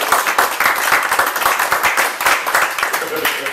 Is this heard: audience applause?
yes